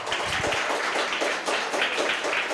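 Audience applause at a Stemey Malaysia first-anniversary event, a dense steady wash of many hands clapping together for the full stretch, moderately loud and filling the hall without any voice over it.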